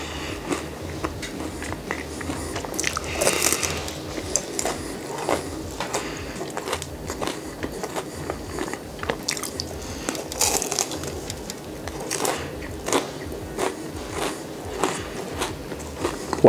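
Close crunching and munching as someone eats a cheesecake-stuffed waffle cone with a graham cracker base, soft irregular bites and chewing clicks with no talking.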